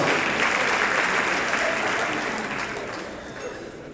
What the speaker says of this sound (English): Give her and her husband a big round of applause.